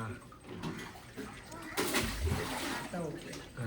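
Water being drawn and splashing into a container at a roadside hotel, a continuous gushing and sloshing that swells midway, with people talking nearby throughout.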